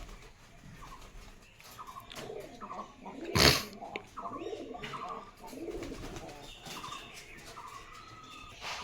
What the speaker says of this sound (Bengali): এই পায়রাগুলো ওখানে ওদের জন্য ওখানে খেতে দিয়েছে ওরা ওখানে খাবে